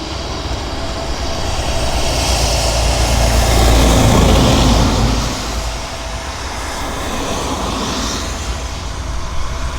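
A Lockheed P-3, an Electra-derived turboprop, arrives at Abbotsford, its broad engine roar building to a loud peak mid-way and then easing into a steady, slightly distant drone.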